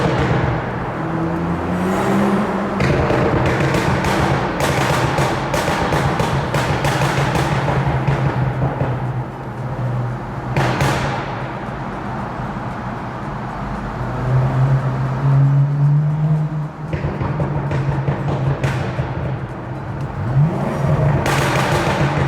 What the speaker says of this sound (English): this is my BMW 435 6-speed manual, and I'm going to give you some verbal action in the Holland Tunnel